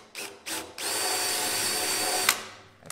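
A power drill bores out a trim fastener during a teardown, two short bursts followed by a steady close whine of about two seconds that stops abruptly, with no talking.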